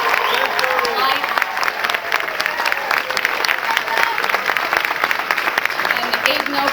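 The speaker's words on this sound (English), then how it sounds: "Give them a big round of applause" A school play audience claps loudly for the student crew, the applause dense and continuous with scattered individual claps standing out and some voices mixed in.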